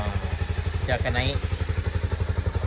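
Honda CBR250R motorcycle engine running steadily up close with a rhythmic low pulse, a person speaking over it.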